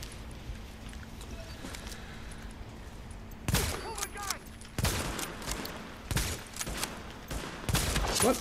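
Rifle gunfire in the shooter game The Division, quiet at first and then a run of loud, close bursts of shots separated by short pauses. Someone speaks over parts of the firing.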